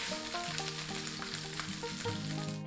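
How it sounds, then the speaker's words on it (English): Beef pieces sear in a hot wok for a Thai stir fry, a steady loud sizzle running throughout with faint stirring clatter, while tonal music plays over it. "Now, time to get the beef into the wok."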